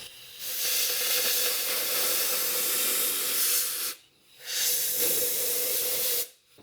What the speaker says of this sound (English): So I've got an air compressor in my garage and just hook up this air gun